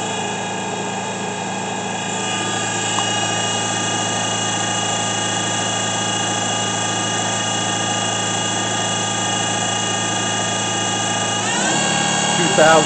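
A Daewoo Lynx 200A CNC turning center with a Fanuc 21T control runs its spindle at a steady 1,500 RPM, giving a continuous tonal machine whine with layered hum that shifts slightly near the end.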